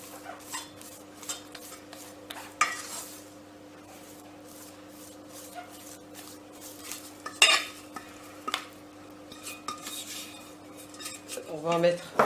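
A spoon scrapes and stirs choux pastry dough for mini chocolate éclairs in a saucepan as four eggs are worked in one at a time, giving soft intermittent scraping and knocks against the metal pan.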